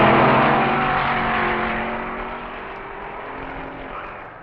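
A Ford stock car roars past at a 1961 NHRA drag race, a loud engine that fades steadily as it pulls away, with a broad rushing noise and no voices.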